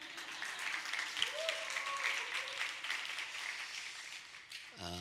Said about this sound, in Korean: 제게 치는 박수가 아니라 하나님께 영광 돌리는 박수인 줄 알겠습니다